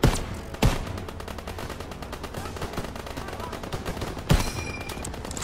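Call of Duty WWII gunfire: loud gunshot bursts at the start, again shortly after and near the end, over a dense, continuous rattle of rapid fire and battle noise.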